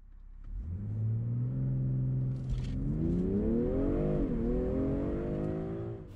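BMW M340i driving a lap on a track, the engine note climbing steadily through the revs with a rich mid-range growl, close and loud from inside the car.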